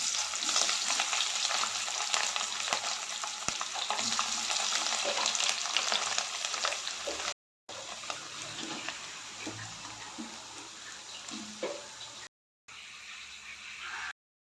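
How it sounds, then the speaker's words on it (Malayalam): Cauliflower deep frying in hot oil, a continuous bubbling sizzle at moderate level with occasional stirring sounds, broken by two short silent gaps, no talk. "കോളിഫ്ലവർ ഒന്ന് പൊരിച്ചെടുക്കാം"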